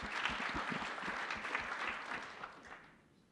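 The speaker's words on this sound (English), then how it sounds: "let's give them one more round of applause." Audience applause at an indoor panel event, a dense patter of many hands clapping at moderate distance that fades out toward the end, with no talk over it.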